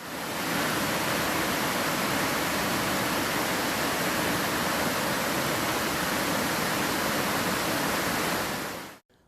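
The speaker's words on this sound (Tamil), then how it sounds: "ஆங்காங்கே சிற்றோடைகளிலும் மழைநீர் பெருக்கெடுத்துள்ளது" Rainwater gushes through small streams after heavy rain, a loud, continuous roar of water that fades out abruptly at the end, with no talking.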